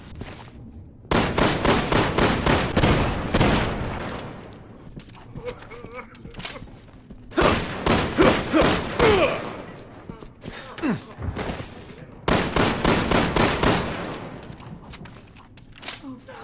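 Wing Shooter pistol fire in the video game Resident Evil 6, three separate rapid bursts of five sharp, evenly spaced shots each, loud and close, with quiet gaps between them and a voice talking over part of it.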